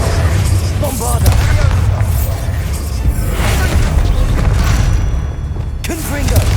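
Loud, continuous blast rumble from the Bombarda explosive spell in Hogwarts Legacy, heavy low booms and crashing debris layered together throughout, with a voice speaking over parts of it.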